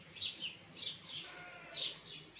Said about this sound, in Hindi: सुबह सुबह का वक्त है, चिड़ियों के चहचहाने की